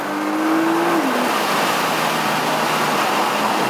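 A Nissan GT-R on a race track holds a steady, loud engine roar under throttle, a dense continuous drone with a brief tonal whine near the start.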